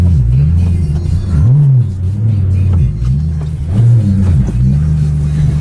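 A Maserati car engine runs close by, a loud low rumble rising and falling through several revs, with no clear voices over it.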